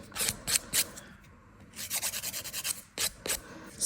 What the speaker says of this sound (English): I don't have to file too much with this hand